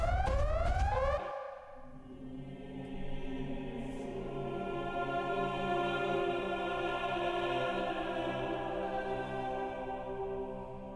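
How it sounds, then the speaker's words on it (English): A repeating electronic alarm from the video game Xenosaga Episode I, a steady layered siren-like tone that rings continuously at a strong level after a brief louder burst at the start, with no voices. "I gotta listen to that sound, that alarm over and over again."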